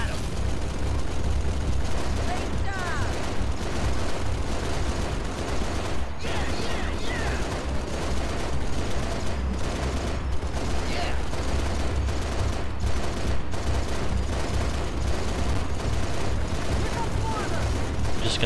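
Turret gunfire in Halo Reach on the New Alexandria level, a continuous dense barrage of rapid shots and booms mixed with battle noise. It runs throughout at moderate loudness, with a voice talking over it.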